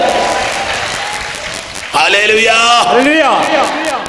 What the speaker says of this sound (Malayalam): വിശ്വസിക്കുന്നവര് മാത്രം കൈയടിച്ച് കർത്താവിന് വന്നു കൊടുക്കുക